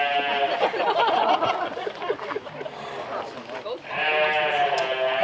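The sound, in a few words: sheep bleating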